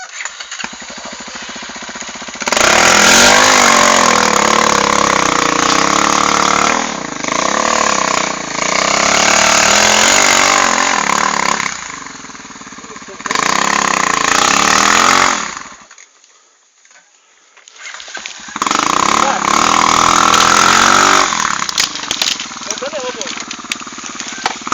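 Motorcycle engine revving hard while climbing a steep hill curve on a rural road, loud sustained roaring bursts that cut out briefly then return, with voices talking nearby.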